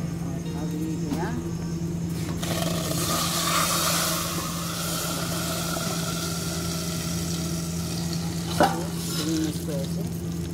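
Chillies fry and sizzle in a pan while being stirred, a steady hiss under a low engine-like hum, with someone talking over the cooking and occasional clinks of the spoon.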